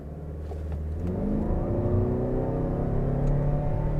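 A 2023 Lexus NX 450h+ F-Sport plug-in hybrid SUV launching hard in Sport Plus with traction control off, its engine and electric drive rising steadily in a smooth, loud, close whirring pull with no talk.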